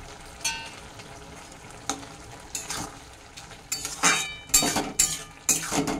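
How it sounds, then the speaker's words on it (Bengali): Bottle gourd cooking with ginger paste in a pan, stirred with a utensil: soft sizzling under repeated scraping and clinking strokes, sparse at first, then louder and more frequent. "আদা বাটাটাকে দিয়ে আমি মিনিট খানেক ভালোভাবে নেড়ে চেড়ে রান্না করব।"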